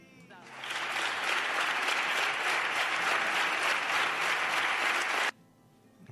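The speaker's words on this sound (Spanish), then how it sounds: "Era recibida así, con este aplauso, buena parte del Parlamento en pie." A Spanish parliament chamber breaks into applause, much of it standing, a dense steady clapping that holds for about five seconds and then cuts off abruptly.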